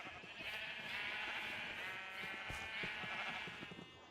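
Minecraft sheep bleat repeatedly in a continuous wavering chorus, the calls overlapping at a moderate level with no talking.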